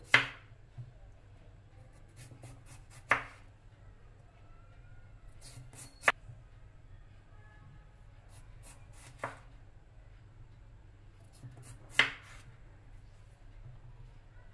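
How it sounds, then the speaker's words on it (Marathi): A knife slices through a potato on a board while it is being cut into French fries, giving five sharp, separate chops spaced about three seconds apart over a quiet background. "फ्रेंच फ्राईज म्हणजेच फिंगर चिप्स चाकूने कट करणार असाल तर सर्वात आधी बटाटा जो गोलसर आहे तो आपण थोडासा कट करून घेऊया।"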